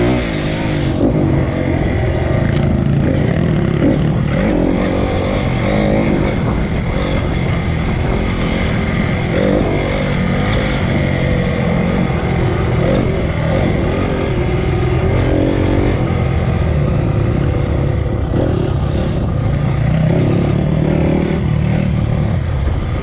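A dirt bike engine runs continuously on an eroded forest trail, loud and close, its drone rising and falling as the throttle varies, with no talk over it.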